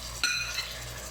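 Tomatoes drop into a pan of golden frying onions with a quick clatter, followed by a low, steady sizzle, close and fairly quiet.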